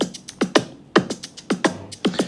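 Fuji percussion loop from a Splice sample pack, an Afrobeats-style groove of sharp hand-drum hits with rattling upper accents in a steady syncopated pattern, close and alone.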